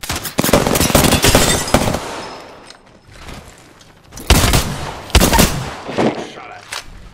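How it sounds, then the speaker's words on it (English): Prowler burst fire in a shooter video game: rapid gunfire rattles for about two seconds, then two more short bursts follow after a pause. Brief in-game voice lines sound faintly between the shots. "You're shooting at me."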